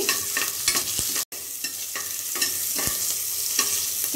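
Carrots and green chillies frying in a pan without onion, stirred with a spatula that taps and scrapes in regular strokes over a steady bright sizzle, close and clear.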